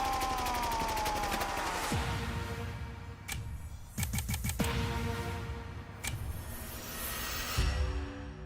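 Rapid volley of gunshots bursting out after a shouted order to shoot, sharp loud cracks in clusters over music and effects, with a brief pause between bursts.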